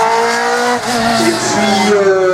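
A Dallara F301 Formula 2 race car at a slalom event, its engine revving up with rising, sustained tone as it starts its run, loud and fairly close with no talk over it.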